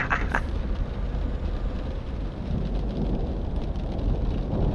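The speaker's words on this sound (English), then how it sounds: "small thunder and lightning's working well" Thunder rumbling in Euro Truck Simulator 2, a deep, continuous low roll mixed with rain and wind-like noise and the drone of the truck, steady and loud throughout with no voices.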